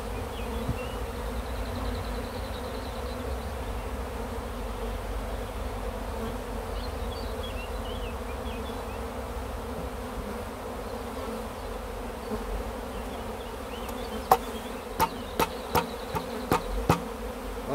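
A honeybee swarm pours out of a hive in a dense, steady buzz that holds close and even throughout, with a few sharp taps near the end.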